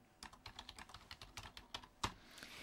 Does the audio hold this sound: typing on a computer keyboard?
yes